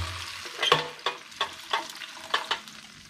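Coconut milk sizzles in a hot pan for a crab dish while a utensil stirs it with about six sharp, rhythmic scrapes over a soft, steady frying hiss, close up and with no talking.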